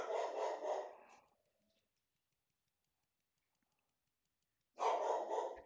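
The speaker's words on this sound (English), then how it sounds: "My dog's barking for no reason." A dog barks loudly in two bursts at close range, a rapid series of barks at the start, then silence for several seconds before another bout of barking resumes near the end.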